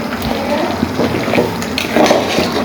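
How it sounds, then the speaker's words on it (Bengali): Water added to a pot of chicken khichuri cooking Bengali style, a steady close splashing pour that runs continuously with small bubbling bursts and no talk. "পানি শুকিয়ে আসলে আমি এখন পানি অ্যাড করব।"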